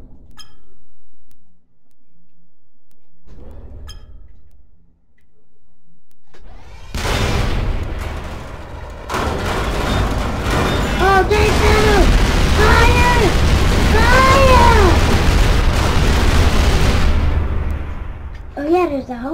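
In the People Playground sandbox game, a quiet opening gives way to loud, sustained blasts and rumbling explosions, with homing missiles whistling and swooping through the barrage until it ends.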